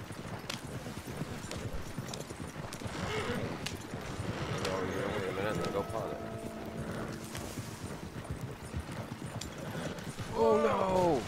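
Horses pulling a carriage in Red Dead Redemption 2, with a continuous rhythmic clatter of hooves and rolling wheels at moderate volume, with a voice talking over it and a short whinny near the end.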